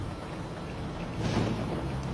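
Rain falls steadily during a thunderstorm over an airport, a dense broadband hiss with a low rumble swelling partway through, heard without voices.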